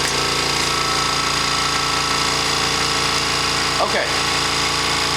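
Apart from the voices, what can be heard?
compressor running on RYO EZ-Fill cigarette machine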